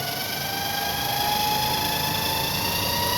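A small engine runs steadily close by and climbs gently in pitch as it revs, giving a continuous buzzing hum with no talking over it.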